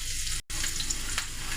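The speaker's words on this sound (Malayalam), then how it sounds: "കടുകൊക്കെ പൊട്ടി." Mustard seeds crackle and sizzle in hot oil in a pan while a Kerala thoran and rasam are cooked, giving a loud, steady frying hiss with scattered sharp pops and a brief break partway through.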